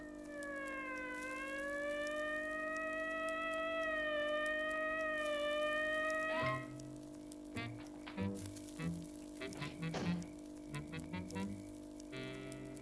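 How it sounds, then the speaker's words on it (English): A wailing police siren rises and falls in pitch for several seconds, then gives way to scattered clanks and short tones, with no talking. "That's a police siren."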